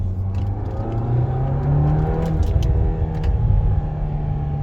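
A manual MK8 Volkswagen Golf R engine revs up and pulls hard, a steady loud roar rising in pitch, close and continuous with no talking.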